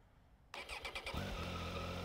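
A 2018 Triumph Tiger 800 XRT three-cylinder motorcycle with a new exhaust starts up after a quiet moment, a sharp cranking burst that catches and settles into a steady, close idle.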